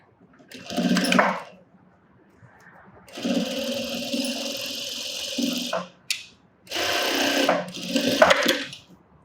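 A sewing machine stitches fabric while tailoring, running in three bursts of a few seconds each, separated by short pauses, close and fairly loud.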